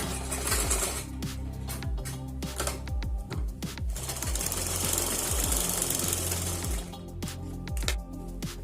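An electric sewing machine stitches blouse fabric with its lining, a fast mechanical rattle in close, loud bursts. Short pauses and speed changes break it up, and a sustained stretch runs through the middle.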